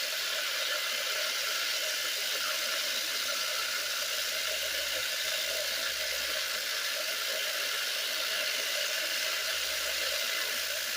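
A Raytech Tumble-Vibe 5 vibratory rock tumbler runs with a steady, loud, hissy buzzing drone that stays constant throughout, with no voices.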